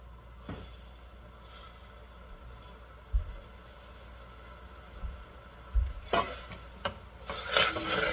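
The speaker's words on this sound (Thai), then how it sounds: "เราก็คนคนให้มัน ผง ปรุง รส มันละลายครับ" A spoon stirring seasoning powder into boiling water in a pot while making a Thai glass noodle salad, with quiet swishing and a few sharp clinks against the pot, louder near the end.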